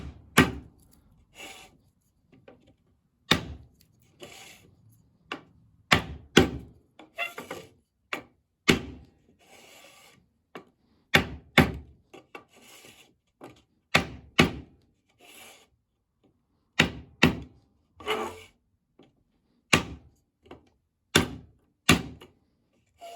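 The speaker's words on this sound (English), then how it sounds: "you'll get to the point where the shell won't let you hit the ring any farther" Reinforcement ring being hammered into a drum shell for a compression fit, a series of sharp close knocks in irregular bursts with rubbing scrapes between them.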